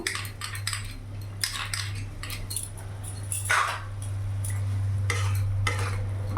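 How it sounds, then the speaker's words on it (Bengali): A metal spoon scrapes and clinks against a pan while ginger, garlic and chilli paste is stirred into cauliflower curry, giving repeated close scraping strokes over a low hum and soft sizzle, with no voices. "ভালো করে মিশিয়ে নেব"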